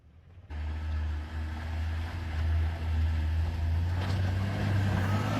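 A 4x4 engine, one of several Fortuners, Land Cruisers and Jeeps, roars steadily under heavy throttle while climbing an icy hill in Kazakhstan, a sustained low drone that swells and holds without a break.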